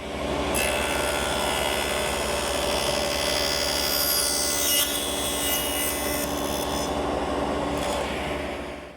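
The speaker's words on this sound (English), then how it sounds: "A couple passes through with the miter gauge, and I should end up with a tenon that's just a slip fit." Table saw cutting a wood tenon with a miter gauge, a steady loud whine of the running blade with rasping bursts as passes bite into the wood, continuous and close with no speech.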